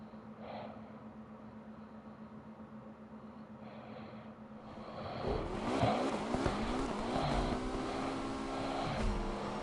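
A car in Need for Speed Unbound starts with a low idle hum, then surges into loud acceleration with rising engine tones, gear shifts and tire noise, holding at speed.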